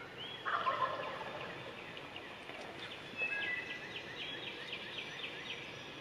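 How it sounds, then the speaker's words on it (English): A wild turkey gobbler gobbles at dawn, two loud, close bursts a few seconds apart, with faint birdsong and quiet morning air around them. "there's another one gobbling, like, sounds like he's right behind me"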